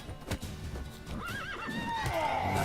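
A horse in The Witcher 3 video game gives a loud, wavering whinny over clip-clopping hooves, the neigh rising and trailing off as the game's ambient sound continues.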